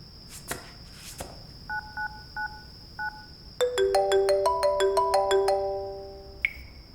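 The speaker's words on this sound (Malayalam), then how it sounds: "അവന്റെ കയ്യിൽ ഫോൺ ഉണ്ടായിരുന്നു. കുറെ നേരം കൊണ്ട് റിങ് ചെയ്യുന്നു." A mobile phone rings in a Malayalam film scene: a few short electronic beeps come first, then a bright, melodic ringtone loops loudly and fades out.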